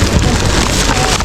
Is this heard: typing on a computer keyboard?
no